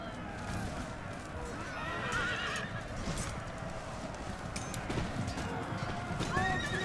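Cavalry horses gallop in an Empire Total War online battle, with steady clip-clop hoofbeats and repeated neighs and whinnies layered over a continuous battlefield din.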